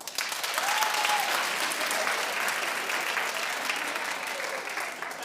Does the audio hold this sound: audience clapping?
yes